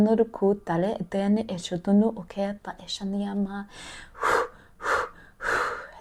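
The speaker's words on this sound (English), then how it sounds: "if you hear me doing that breathing, just let yourself breathe" Someone talks, then breaks into heavy, rapid breathing, three or four loud, forceful breaths in quick succession close to the microphone.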